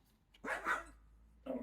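A dog barks nearby indoors, one loud bark followed by a shorter second bark after a pause, close to the microphone.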